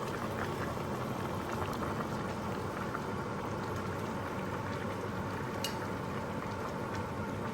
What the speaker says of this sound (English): we still have that boil, which is what you want